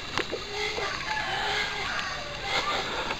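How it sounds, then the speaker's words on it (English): A rooster crows outdoors in Iloilo, Philippines, fairly close, over a steady background hiss with some faint clucking and bird calls. "Hello, rooster."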